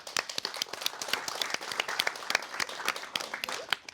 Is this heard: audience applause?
yes